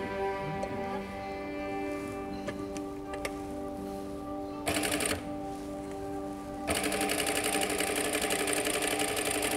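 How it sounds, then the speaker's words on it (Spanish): An industrial flat-bed sewing machine stitches a test seam with a rapid, even mechanical rattle in two loud bursts, the second one longer, after a quieter stretch of handling sounds and a steady background hum. "vamos a hacer una prueba de costura para ver si nos quedó bien enhebrada la máquina"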